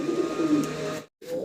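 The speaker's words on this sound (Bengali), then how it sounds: "চিলা কবুতর দেখেন" Chila pigeons cooing at a pigeon shop, a close, low rolling coo that runs for about a second, then stops briefly before another coo begins.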